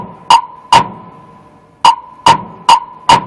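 A clave phrase in 3/4, with four sharp wooden hits set against three beats, played as two groups of crisp, close knocks separated by a pause.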